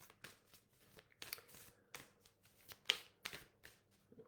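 Oracle cards are shuffled and drawn in a quiet room, giving a string of soft, close riffling and flicking bursts with brief pauses between them and no talking.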